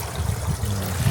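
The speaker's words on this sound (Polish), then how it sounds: "Napełniamy wodę. Do butelek." Water trickles and gurgles steadily into bottles at a rural spot near Sainshand, Mongolia, a close, continuous low burbling filling that lasts about a second with no one speaking.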